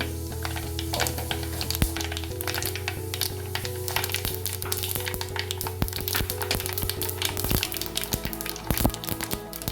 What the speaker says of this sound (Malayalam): കടുക് പൊട്ടാൻ തുടങ്ങി.